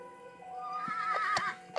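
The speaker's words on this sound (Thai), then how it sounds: "ทำไมมีเสียงม้าวะ" Horse in the survival video game 99 Nights in the Forest lets out a clear, rising-and-falling whinny lasting about a second, with a few soft hoof-like knocks at the end and no voices.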